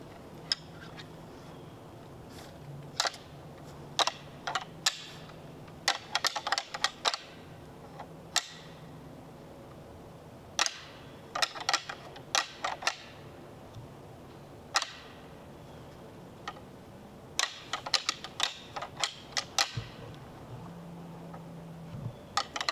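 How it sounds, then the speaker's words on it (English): Antlers are rattled outdoors during the rut to call in a big Ohio whitetail buck, giving sparse, sharp clacks and clattering clusters over a quiet field background. "I'm gonna try rattling at him since he's going the other way."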